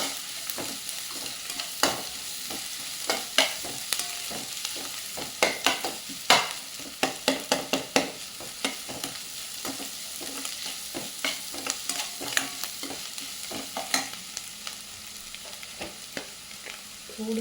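Crushed garlic and chili stirred into frying chickpea greens, repeated spatula scrapes and clacks against the pan over a low, steady sizzle, irregular bursts clustering in the middle.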